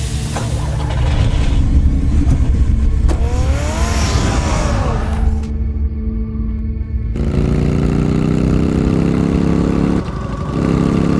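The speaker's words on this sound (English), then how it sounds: "Get the car ready, Alfred." A car engine in the Batman Telltale Series video game runs loud and steady, its pitch sweeping up as it accelerates, then cuts out briefly before resuming with a smooth, rising drone.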